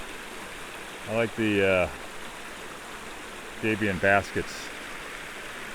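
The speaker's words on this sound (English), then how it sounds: "Nice little waterfall" A small waterfall along a snowy stretch of the Pacific Crest Trail makes a steady, even rush of falling water behind a man's brief speech.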